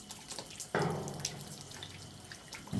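Water pours in a steady, close stream as the head of a body is washed during ghusl, starting abruptly and running on continuously with light splashing and no voices.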